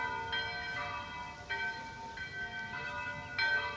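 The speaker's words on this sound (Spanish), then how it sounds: "Y fijaos cómo suenan las campanas de la iglesia." Church bells ring out in the hilltop village of Iznájar, Spain, with about six resonant strikes at uneven intervals, each blooming and fading over a soft outdoor background.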